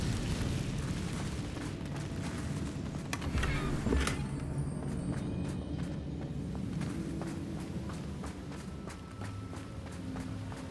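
The Incendio fire spell cast in Hogwarts Legacy on PS4, a sudden fiery burst and whoosh rising out of a steady rumble of game ambience and footsteps, moderately loud and unaccompanied by talk.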